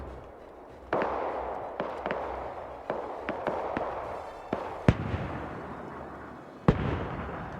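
Tanks take hits in a WW2 Soviet armor battle video game: a run of sharp, booming impacts and blasts at irregular intervals over a low rumbling background, some close and loud, others more distant.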